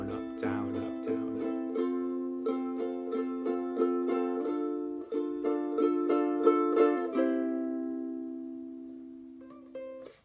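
A ukulele strummed down with the thumb and up with the index finger, giving an even run of bright chord strokes close by, alone, with the last chord left to ring out.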